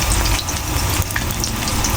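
Steady, dense sizzling of eggplant frying in hot oil, close and continuous with crackling pops throughout.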